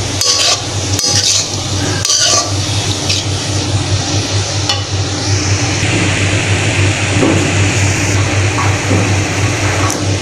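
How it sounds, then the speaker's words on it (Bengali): Kolai greens being stirred in a pan over medium heat with salt and turmeric, a busy frying crackle with scraping spatula strokes and a few sharp knocks against the pan, under a steady low hum. "এবার এভাবে কিছুক্ষণ নাড়তে থাকবো মিডিয়াম আঁচে।"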